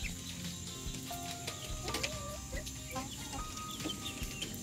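A rooster feeding a chick in a barn gives soft, scattered clucks and short calls over a steady background hiss, fairly faint and close.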